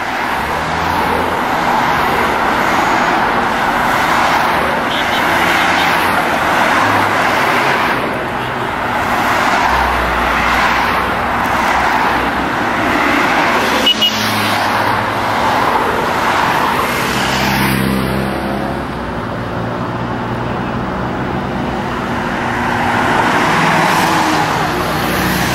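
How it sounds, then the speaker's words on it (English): Cars drive past in a continuous stream during a pro cycling race, engines roaring and whooshing by one after another amid loud roadway noise. "Look at all the rest of the cars."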